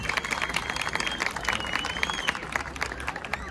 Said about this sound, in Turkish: Ona şöyle güçlü bir alkış gelsin